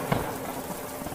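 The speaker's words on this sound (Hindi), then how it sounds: "तेज बारिश होने लगती है।" Heavy rain in a cartoon, a dense, steady hiss of downpour with close spattering drops, continuous and fairly loud over its short length.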